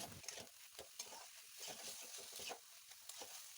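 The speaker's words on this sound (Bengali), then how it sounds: "মা মশলার সাথে থোড়টাকে ভালো করে কিছুক্ষণ কষে নেবে।" Boiled banana stem being stirred and sautéed with spices in a pan, a quiet close sizzle broken by repeated scraping spatula strokes in an irregular rhythm, no talking.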